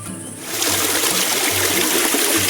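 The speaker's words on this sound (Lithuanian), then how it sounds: "čia tipo waterfallas, kai būna lietus ir čia visur bėga vanduo" Water pours and splashes continuously nearby, like a small waterfall, rising from quiet to a steady rushing flow after a moment.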